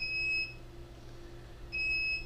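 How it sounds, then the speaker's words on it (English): Two bright electronic beeps, each lasting about half a second, separated by a pause, over a steady low hum, as a 2N IP Verso intercom camera temporarily disconnects from an IVSEC NVR recorder. "If you hear beeping, that is the camera temporarily disconnecting from the recorder."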